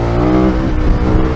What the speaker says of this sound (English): Fourth gear power wheelie!